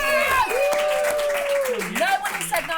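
A studio audience at a television show applauds, steady clapping spreading under the host's continuing speech.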